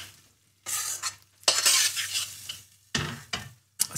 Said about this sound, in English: A third of a tin of tomatoes. Gonna give it a stir.